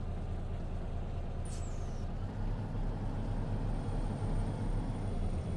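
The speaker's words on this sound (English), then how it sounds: "Let's release the parking brake. Wait for the sound to finish." A Peterbilt 379 truck's parking brake releases in a short air hiss, heard over a steady low engine rumble inside the simulated cab, with no talking.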